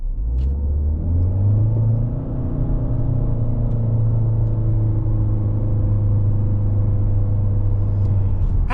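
A 2025 Chevrolet Malibu RS accelerates in a steady, continuous rumble, its engine drone rising slowly in pitch, heard close from inside the car with no talk.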